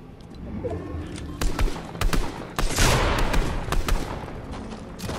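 Video game gunfire in a busy online match: several sharp single shots crack out over dense background noise, spaced irregularly across the stretch, with no speech heard.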